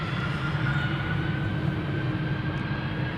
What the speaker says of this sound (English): This is a United Airlines 767-300 first taking off to Washington.